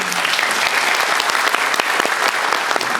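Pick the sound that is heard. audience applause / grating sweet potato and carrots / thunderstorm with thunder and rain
audience applause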